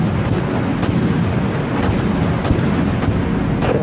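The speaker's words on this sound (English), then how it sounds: "Launching torpedoes." Torpedoes launching from a warship in the video game Dreadnought, with heavy, continuous booming rumble and several sharp bursts, loud and dense with no pause.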